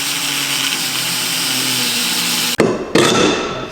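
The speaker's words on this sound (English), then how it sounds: "It's just easier just to cut that nut clean off." A power tool grinds steadily through a nut on a Ford Focus ST droplink, a loud, continuous whine that cuts out abruptly, then restarts twice in short bursts.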